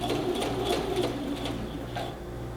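A sewing machine stitching a shirt pocket runs continuously up close, a fast even mechanical whirr with a rhythmic needle patter that stays loud and unbroken throughout.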